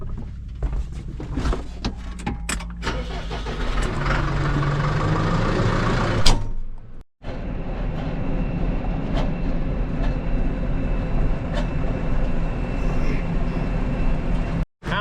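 A tractor backs gravity wagons into a farm shop after soybean harvest, a steady rumbling engine and rattling wagon noise close by, with a brief pause midway and faint voices early on.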